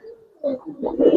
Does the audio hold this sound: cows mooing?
no